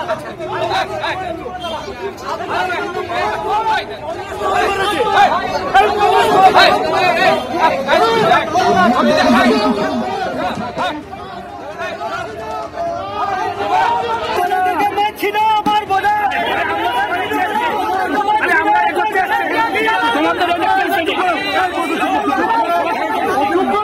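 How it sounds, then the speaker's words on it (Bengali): Rival Congress party factions at the party office in Tamluk, Purba Medinipur, with a crowd shouting slogans over a steady, loud babble of many voices that rises and falls for the whole stretch. "বিজেপির দালালকে মানছি না, মানবো না স্লোগান"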